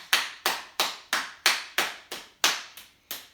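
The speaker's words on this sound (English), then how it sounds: "let's clap our hands" Hands clap in an even rhythm during a gentle healing yoga class, about ten sharp, close claps spaced roughly a third of a second apart, with no talking.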